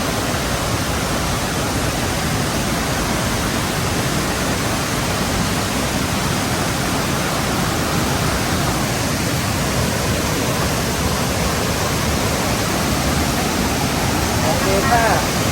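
Tak Yai Waterfall in Phetchabun, a constant loud, dense roar of falling water that stays even for the whole stretch, with no other sounds standing out.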